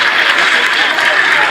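Dense, steady applause from a school assembly crowd in Kyebando, an even wash of many hands clapping at once with no gaps across the short stretch.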